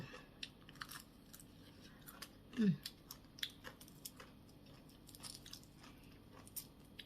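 Someone eating papaya salad with rice noodles, soft wet chewing and small crunchy bites scattered faintly through a quiet room, with one brief louder bite midway.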